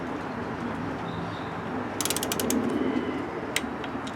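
A torque wrench set to 80 inch-pounds clicks on a seized Kohler Courage engine from a Craftsman LT2000 mower, giving a quick burst of sharp metallic ratcheting clicks over a steady background hum, with one last faint click after them.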